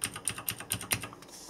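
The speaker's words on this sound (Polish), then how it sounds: "Jak wiecie, przełączniki Blue mają specyficzny klik," Sharp typing on a mechanical keyboard with blue clicky switches, five or six crisp distinct clicks in an uneven rhythm, close and fairly loud, with no talking.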